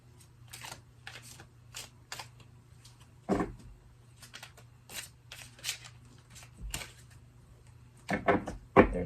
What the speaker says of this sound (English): I don't think I've ever shuffled this bad in my life.